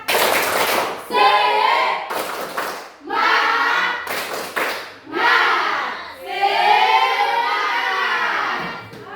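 A class of children performs a rhythmic spirit clap, sharp bursts of clapping alternating with loud sung or chanted phrases in a patterned call-and-clap routine.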